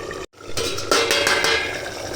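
A metal lid clanks onto a cooking pot of simmering potatoes, with a short sharp knock followed by a few lighter metallic rattles over a steady kitchen background, close by.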